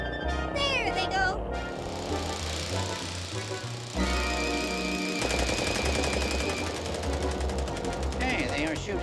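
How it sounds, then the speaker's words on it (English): Rapid cartoon gunfire of candy shots rattles along for several seconds in a 1960s Gumby clay animation chase, mixed with music and sound effects, loud and continuous. "Hey, they are shooting candy at us."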